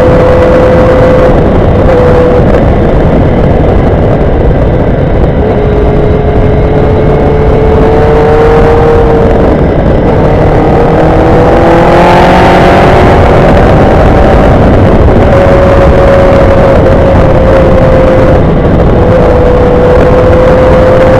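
BMW GS1200 and Kawasaki Ninja 750 motorcycles riding in below-freezing weather, a loud continuous engine drone with wind roar that rises and falls in pitch as the bikes accelerate and ease off, close and unbroken throughout.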